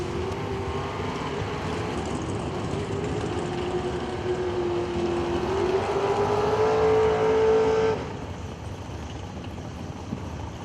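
Drag race cars at a footbrake drag race: a steady, distant engine roar with a rising tone that swells louder and peaks near the end before dropping off abruptly into background rumble.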